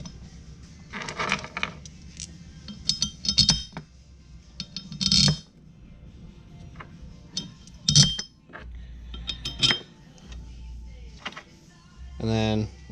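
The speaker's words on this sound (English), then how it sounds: "We're going to drop these bolts in" Metal bolts clink and rattle as they are dropped into place and fitted on a Sportmod motor, with scattered sharp metallic taps and scraping spread over several seconds, close by, under occasional speech.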